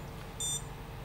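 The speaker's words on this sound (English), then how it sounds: "that beeping right there, I'm just gonna arm the motors real quickly so that I can get them to stop." Motors on a Sector5 V3 FPV drone give one brief, high, thin electronic beep before arming, fairly faint over a quiet room hum.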